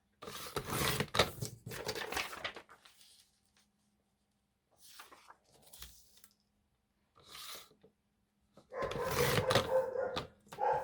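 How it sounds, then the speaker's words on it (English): A dog barks at home in several loud, close bursts, a cluster at the start and another at the end, separated by quiet gaps with a few softer barks in between. "And there goes the dog."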